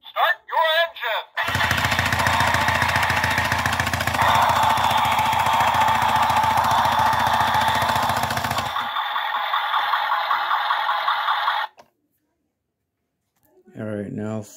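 Road Rippers Muscle Boss Turbo toy car from 2009 starting up, a loud, buzzy electronic engine rev that runs for about ten seconds before cutting out abruptly, with someone talking briefly before and after.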